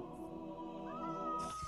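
A cat in Minecraft gives a drawn-out meow at moderate volume, alone against a quiet game backdrop.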